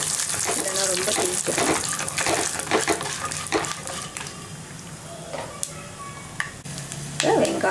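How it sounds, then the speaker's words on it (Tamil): Peanuts and cashews frying in oil in a pan for wheat rava upma, a steady sizzle with stirring scrapes, while a voice talks over it. "பாதி பொரியும் போது வேர்க்கடலையும் முந்திரி பருப்பும் போட்டுக்கலாம்."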